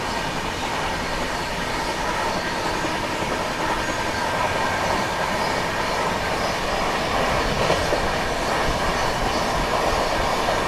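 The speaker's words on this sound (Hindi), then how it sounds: "और किसी ट्रेन को तो हम लोग ओवरटेक कर रहे हैं।" The Mangla Lakshadweep Express running after leaving the ghat section near Budhni station, its rumble and rattling rail noise steady and loud, heard from on board.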